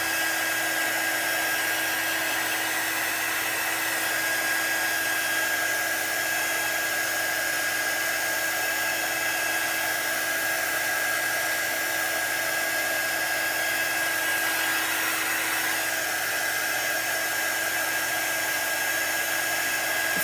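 A hair dryer blows steadily on thick chalk paint, a constant high-pitched motor whine and rushing air that holds evenly for about twenty seconds, close and loud, with no speech.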